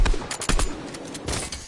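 Gunfire rings out in an online multiplayer video game as rapid, close bursts of shots in quick succession, briefly and loudly.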